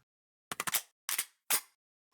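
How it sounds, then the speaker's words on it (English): Weapon reload in a shooter game built with Game Creator 2: three quick mechanical clicks and clacks in sequence, crisp and close against silence, the first burst a rapid rattle followed by two single snaps. "So let me just reload"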